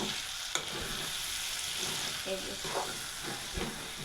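Dried lote fish curry sizzling and frying in a pan with oil, stirred with scraping utensil strokes, a steady close hiss throughout with occasional clacks.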